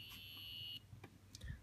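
A high electronic buzzer tone from a guitar tuner sounds steadily for under a second, then cuts off, leaving faint clicks and room noise.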